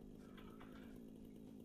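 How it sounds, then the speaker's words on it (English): Chainsaw from the video game Satisfactory cutting down a tree, a steady buzzing engine drone held throughout at a low, even level. "Chainsaw can get rid of those things."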